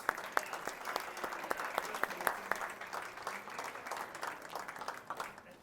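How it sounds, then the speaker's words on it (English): Applause from a library audience at a Mardi Gras gathering, a steady patter of many hands with sharp individual claps standing out, moderately close and continuous with no talking. "One more round of applause."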